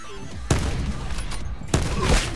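Gunfire in Black Ops 4 on the Nuketown map, two loud sharp shots about a second apart, each trailing into a rumbling echo, over a noisy game background.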